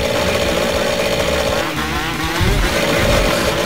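Motocross motorcycle engine in the McGrath vs. Pastrana video game, a loud continuous buzzing rev with a brief dip and rise in pitch, heard alone without talk.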